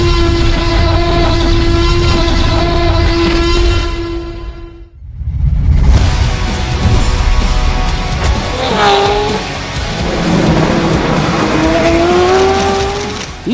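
A Porsche race car known as Rexy roars through its gears, its high engine note rising and then cutting off briefly at a shift before surging again with pitch sweeps and tire noise, loud and close.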